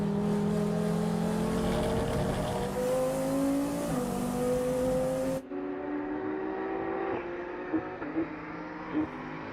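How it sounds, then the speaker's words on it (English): A BMW race car races at night during an FIA CEZ endurance race at Slovakia Ring, its engine droning loud and steady, rising and dropping through shifts and turns, with no voices. "the team is watching their BMW race towards the finish line in 1st position"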